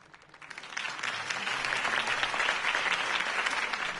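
Crowd applause in a PS4 video game, a political rally scene where a campaign speech ends: dense clapping swells within the first half second and holds steady and loud to the end, with no talk over it.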